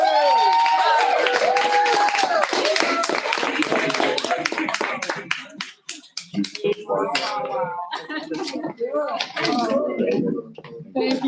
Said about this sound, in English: let's give these actors a round of applause.